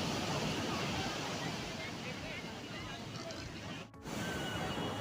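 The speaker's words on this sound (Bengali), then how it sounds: "আমরা সমুদ্রের ধারে এসে গেছি উত্তাল সমুদ্র" Rough sea waves at Puri beach on a cloudy day give a constant broad roar of surf with wind buffeting the microphone, heard from the shore with a brief dip near the end.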